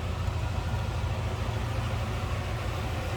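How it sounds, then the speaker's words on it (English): Stock 307 V8 in a 1968 Chevrolet Impala sedan idling with no aftermarket exhaust or cam, a steady low rumble holding even throughout. "Sounds as you'd expect, a 1968 307 to sound. No crazy exhaust, big cam, anything like that. Just a stock sounding V8."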